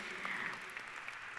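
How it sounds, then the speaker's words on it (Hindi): Brief burst of applause from the gathering welcoming Amruta Fadnavis at the launch event of an NSE and Divyaj Foundation initiative, soft and steady throughout. "एक बार जोरदार तालियों से हम स्वागत करेंगे"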